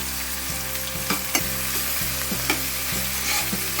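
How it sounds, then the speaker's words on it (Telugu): Onions and curry leaves fry in hot oil in a pan for capsicum rice as a spoon stirs them, a loud steady sizzle broken by regular scraping knocks of the spoon. "ఇప్పుడు ఇవన్నీ ఫ్రై అయ్యే వరకు ఇలా కలుపుకోవాలి."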